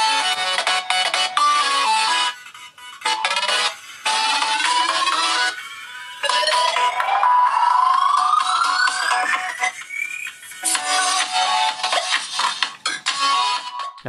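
A ringtone played through the speaker of an Honor 9X Pro smartphone: loud, bright electronic melody in bursts with short gaps, including a rising sweeping tone, no talking.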